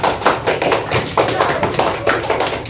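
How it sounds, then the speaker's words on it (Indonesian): Classroom of sixth-grade pupils clapping for a group after an answer in a solar system lesson, a busy run of sharp hand claps and taps, fairly close, with faint voices mixed in. "Ya, tepuk tangan buat kelompok."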